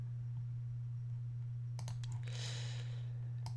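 Several quick keyboard key clicks on a computer keyboard, a short burst and a few isolated taps, close and fairly quiet over a steady low electrical hum.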